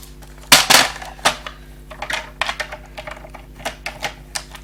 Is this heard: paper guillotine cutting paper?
yes